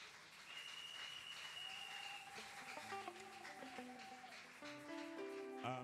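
A church congregation applauding, with steady clapping throughout and a soft tune from organ or keyboard playing over it.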